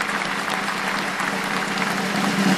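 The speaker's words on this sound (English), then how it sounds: "let's give him a round of applause" Applause during a live futures trading broadcast, a loud, close, unbroken wash of clapping holding steady across the whole stretch with no voices over it.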